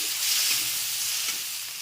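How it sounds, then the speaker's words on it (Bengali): Prawns fry in hot oil in a pan, a steady bright sizzle that holds at an even level throughout with no talk. "মাছটা ভেজে নিচ্ছি।"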